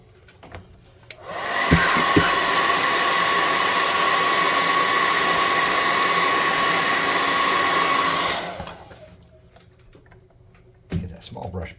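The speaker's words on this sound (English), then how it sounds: "Let's dry this off with a hair gun." A hair dryer used as a heat gun to dry fresh paint on a tabletop terrain model runs loud and steady for about seven seconds, then cuts off, leaving quiet handling noises.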